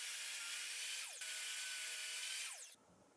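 A power saw at a miter station cuts through 2x6 lumber for a raised dog bowl stand: a loud, steady, whining cut that ends abruptly and leaves a faint hum.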